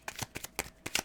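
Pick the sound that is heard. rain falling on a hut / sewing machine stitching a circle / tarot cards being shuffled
tarot cards being shuffled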